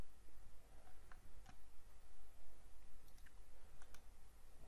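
Computer mouse clicks while browsing a website, a handful of faint, sparse ticks scattered over a steady low hum, close and quiet.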